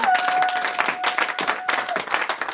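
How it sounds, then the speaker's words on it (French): Crowd applause and clapping at a church sermon fill the clip, dense and steady, with a faint sustained tone running beneath the first two seconds. "Donnez des acclamations au Seigneur."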